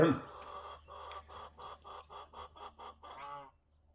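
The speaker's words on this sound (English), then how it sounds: "Yeah, the chickens are still in the coop." Chickens in a coop on a cold day give a quick, rhythmic run of about ten clucking calls at moderate distance, ending in a drawn-out call before things go quiet.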